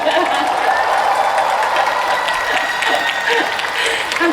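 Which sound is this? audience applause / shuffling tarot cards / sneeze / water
audience applause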